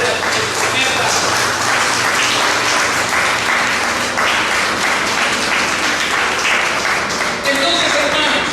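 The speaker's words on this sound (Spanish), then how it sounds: "Decí un aplauso" A church congregation applauds continuously, loud and dense throughout, with scattered voices mixed in.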